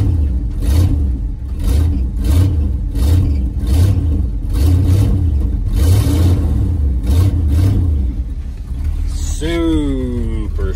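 The engine of a 1971 Ford F250 Camper Special revs in repeated rhythmic pulses, rising and falling several times, loud and close, before settling as a brief squealing sweep ends the run.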